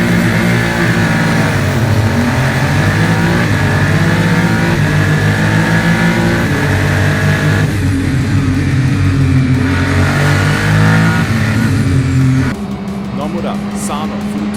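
Super Formula Lights open-wheel race cars battle at the SUGO circuit, a loud continuous engine roar with shifting pitch as cars rev and pass, under an excited commentary voice throughout.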